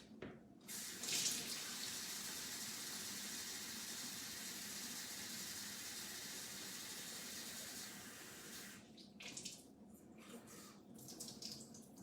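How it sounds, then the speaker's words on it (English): Tap water runs steadily into a plastic water bottle at a sink, a continuous close rushing stream for about eight seconds that then stops, leaving quieter handling noises. "we're gonna do the same thing at the sink."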